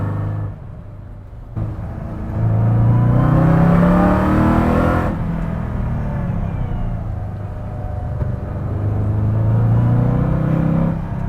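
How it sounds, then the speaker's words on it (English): A 1968 Mustang Fastback Cobra Jet tears along at about 100 mph, its V8 roaring loud and close, rising through two strong acceleration pulls with a gear change between them, and no talking. "I'm going 100 miles an hour in what looks like a 1968 Mustang"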